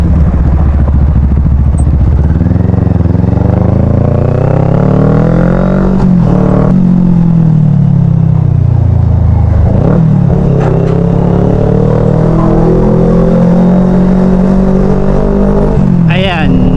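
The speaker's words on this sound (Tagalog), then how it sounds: "Mukhang mahaba-habang traffic na naman to mga katinta." Slow highway traffic, with cars and motorcycles in a long jam, makes a loud, close, continuous engine drone that rises and falls as vehicles creep and rev nearby.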